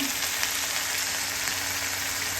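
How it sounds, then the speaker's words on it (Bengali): Chili powder frying in hot oil, a steady close hiss of sizzling that runs continuously and evenly with no voices over it. "সামান্য একটু লঙ্কার গুঁড়ো দিয়ে দিলাম ভেজে রং হওয়ার জন্য"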